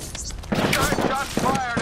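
Bursts of video game gunfire crackle through a short stretch, with rapid broadband shots mixed under a character's spoken voice lines.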